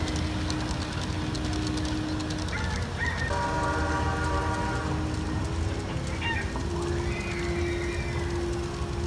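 A train sound effect plays at a SeaWorld Orlando Christmas attraction: a chord-like horn blast sounds over steady background crowd and ambient noise, followed later by fainter whistle-like tones.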